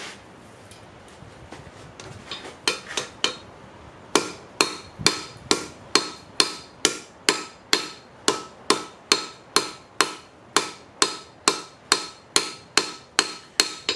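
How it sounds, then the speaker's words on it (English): A cheap claw hammer strikes hot metal on an anvil, first in a quick irregular flurry of blows, then settling into a steady run of loud, ringing hits about two per second with short gaps between. "I'm going to start with the claw hammer."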